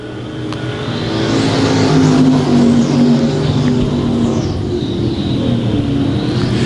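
A vintage stock race car, the number 10, runs at a dirt oval in a pure stocks feature, its engine droning loudly at high revs and rising and falling in pitch as the car laps the track.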